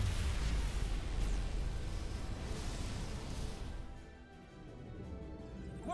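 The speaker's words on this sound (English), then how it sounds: "Whoa! Dilithium explosion." Dilithium crystal explosion in Star Trek: Resurgence, a dense roaring blast with heavy low rumble that fills the scene, then slowly tapers off toward the end.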